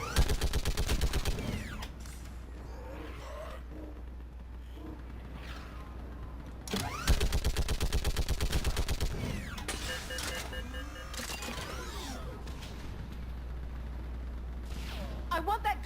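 Mass Effect 3 battle gunfire: loud, close bursts of rapid automatic fire come in clusters with pauses between, over a steady low engine hum and mechanical clatter.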